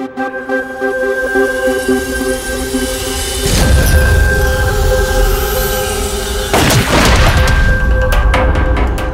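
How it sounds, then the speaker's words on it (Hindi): In a crime-drama scene, a gun is fired at a target from seven to eight feet away, giving two loud, sharp blasts a few seconds apart over steady tonal background music. "तुम यहीं से 7-8 फीट की दूरी से इसे गोली मारो।"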